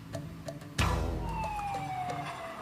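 A fire engine siren wails at a market fire in Purwakarta, West Java, opening with a sharp thud and then a steady, gliding tone that slowly falls in pitch, fairly loud and close.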